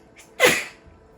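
A single close, sharp sneeze bursts out indoors in a quiet room during a scroll saw craft session, preceded by a faint intake of breath.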